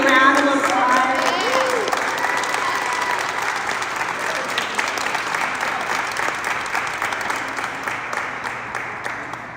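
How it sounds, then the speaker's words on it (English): Crowd applause at a school choice rally in Pennsylvania, a dense, sustained round of clapping and cheering that starts strong with a few voices audible and slowly thins out over about ten seconds. "Can we give them one more big round of applause?"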